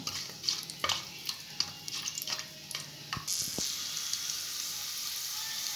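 Whole spices, bay leaf, cinnamon, star anise, stone flower and cloves, frying in oil for paneer biryani: close crackling sizzle with scattered pops and a few stirring scrapes, settling into a steady hiss.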